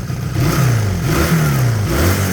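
A Honda CD200 motorcycle engine, freshly serviced with new oil and clean fuel, revs up and down in several loud, close rising and falling sweeps over a steady running note.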